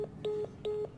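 Telephone dialing in the video game SOMA: a steady sequence of short electronic tones, a few evenly spaced key beeps and a sustained ringing tone, fairly quiet and alone with no talk.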